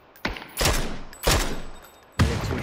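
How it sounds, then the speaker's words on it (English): Four loud, close gunshots ring out in PUBG, each a sharp crack with a decaying rumbling tail, spaced unevenly across a couple of seconds. "I hit two shots. Missed the last."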